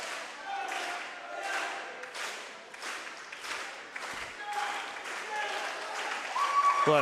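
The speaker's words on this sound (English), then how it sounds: "A lot of clapping happening on the other side of the pool." Spectators clap across the pool at a high school varsity swim meet, steady rippling applause from a distant crowd that continues throughout, with a brief thump near the end.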